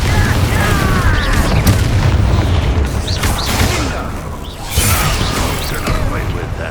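Incendio fire spell blasts in Hogwarts Legacy, heavy booming bursts with crackling, rattling debris that come in quick succession, loud and close, mixed with battle noise.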